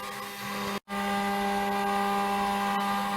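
A CNC machine cuts a logo into wood with a steady whining router hum and a brief dropout, running continuously and fairly close.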